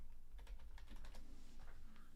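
Quick, light key clicks come in a steady run from a computer keyboard while someone types a chess challenge command. The clicks are faint and sit under a low background hum, with no voice.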